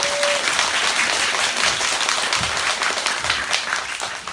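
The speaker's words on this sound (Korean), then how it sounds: "박수 한번 또" Audience applause fills a talk event, steady, dense clapping from a crowd that sustains evenly throughout.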